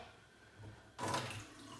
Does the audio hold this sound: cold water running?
yes